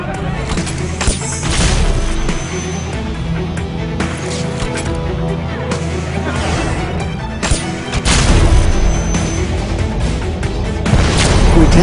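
Heavy booming sniper rifle shots and crashing impacts from the Hitman video game trailer ring out over a dense orchestral score, with voices speaking in between.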